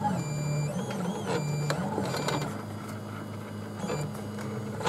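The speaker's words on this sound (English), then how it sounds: "So it's printing." A DIY Print rite 3D printer printing a case from an SD card makes stepper-motor whines and buzzing tones that shift in pitch, with a low fan hum underneath, fairly quiet and continuous.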